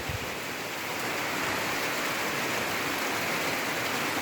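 Steady, dense rain hiss falling on surfaces nearby, continuous and even throughout with no voices.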